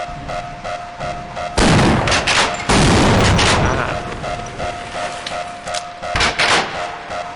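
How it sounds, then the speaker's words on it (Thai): A crate of explosives blows up after being shot in Half-Life: Opposing Force, with two heavy booming blasts and a rumbling tail over a steady humming game background, with no talking. "เดี๋ยวให้เราทำการยิงกล่องระเบิดนี้นะครับ"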